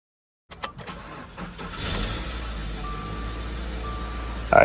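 A Subaru Outback with a 2.5L engine cranks briefly and catches, settling into a steady idle that runs on loud and close, with a thin tone sounding partway through.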